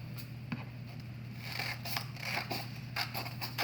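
Scissors snip through folded green construction paper in a series of quick, close, crisp cuts and rustles over a low steady hum, with no talking.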